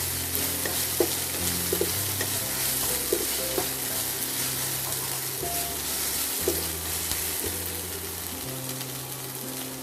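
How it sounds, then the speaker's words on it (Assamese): Grated coconut fries and sizzles in a pan, with steady crackling and stirring scrapes running throughout at close range, accompanied by occasional clinks of a utensil. "আৰু এতিয়া দিলোঁ এয়া নাৰিকলখিনি, ৰুকি থোৱা নাৰিকলখিনি দিলোঁ। এয়া চাওকচোন মই কেনেকৈ ভাজি আছোঁ।"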